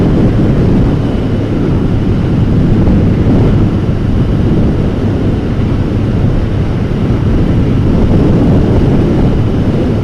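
Wind roaring against the microphone while riding a motorbike, a dense, steady low rumble that stays loud and unbroken throughout, with no voices.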